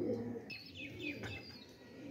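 Soft pigeon coos and brief chirps sound close by over a low background hum, with no talking.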